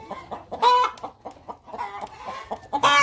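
Chickens cluck and squawk in a laying coop during egg collection, with several close, irregular clucks and a few louder drawn-out cackles in quick succession.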